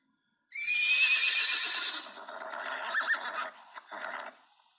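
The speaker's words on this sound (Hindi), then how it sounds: "घोड़ों की आवाज़ों को क्या कहते हैं? हिन हिनाना।" A horse gives a loud, close whinny lasting about a second and a half, then trails off into shorter, rougher neighs and snorts, heard alone without talk.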